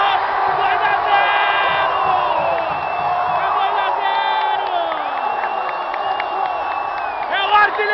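Football stadium crowd roars and cheers after a Palmeiras goal by Wagner Love against Grêmio Barueri, a loud sustained wall of voices under an excited commentator's shouting.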